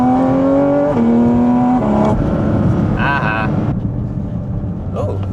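A Toyota Supra drives past, its engine a steady hum running underneath people talking throughout.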